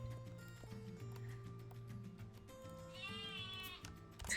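Sheep bleating in a video game, a wavering bleat rising near the end over quiet background tones and soft clopping, fairly faint with no talking.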